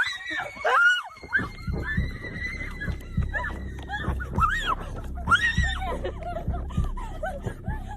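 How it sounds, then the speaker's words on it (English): Frightened girls on a night ghost hunt scream and shriek in high, wavering bursts with some nervous laughter, loud and close over several seconds. "The group hears a terrifying scream and runs back to the car."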